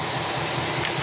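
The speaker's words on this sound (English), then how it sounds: "Let's rev it up and see if" A 2009 Chevy Silverado V8 with AFM and a misfire runs in a steady, close, continuous drone with a faint rough pulsing, sounding more like a held idle than a sharp rev, with no talking.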